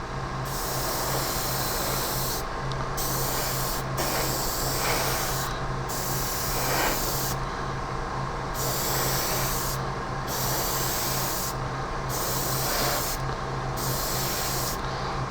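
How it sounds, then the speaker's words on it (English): Continuous hissing spray from a paint gun spraying silver flake paint on a 1/25 scale MPC Torque Trike model, loud and close, broken by brief pauses between passes, with a low steady hum underneath. "when you're spraying silver flake like this"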